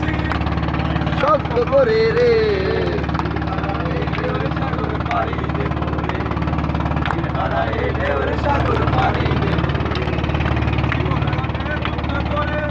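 Fishing trawler engine running at sea on a rough trip to Saint Martin's Island under a storm signal, a steady droning hum throughout while people talk over it.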